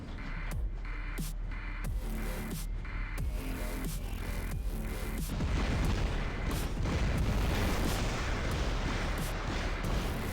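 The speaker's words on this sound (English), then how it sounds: "With 600 meters range, I can snipe back at them and counter them." Long-range sniper fire in the War Robots game, repeated booming shots at an uneven pace over dense, noisy battle sound, loud and with no talk.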